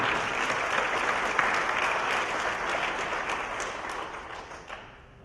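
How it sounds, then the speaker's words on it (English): An audience at a community hearing gives a steady round of applause, dense clapping held evenly for several seconds before thinning out and fading near the end. "they deserve a nice round of applause for this audience"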